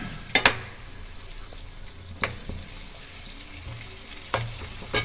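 Masala for a village-style chicken sambar sizzles softly in a pan while water is poured in. Faint frying hiss is broken by a few sharp stirring clanks and splashes, with no talking.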